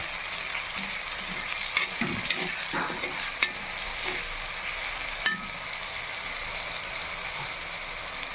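A spoon scrapes and stirs fresh pigeon pea chutney in a pan with turmeric, salt and masala, giving irregular clicks and knocks over a steady soft sizzle.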